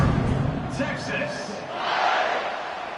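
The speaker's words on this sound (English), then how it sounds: "this crowd now ready to get behind them" Stadium crowd roaring in a football video game as a team lines up for the kickoff in Texas, a broad swelling cheer at moderate level with a louder surge near the end, no speech.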